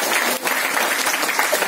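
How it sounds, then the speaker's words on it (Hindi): A conference audience at a Diamond conference in Pune claps loudly for stockists: dense, steady applause filling the space, close and sustained with a brief dip partway through. "एक जोरदार ताली है स्टॉकिस्ट के लिए"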